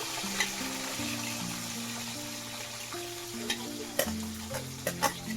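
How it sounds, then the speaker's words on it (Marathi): Onion fries in hot oil with curry leaves in a pan for a shrimp masala, a steady close sizzle broken by occasional stirring scrapes and pops, over a low humming tonal background. "कांदा चांगला भाजून घेऊया आपण"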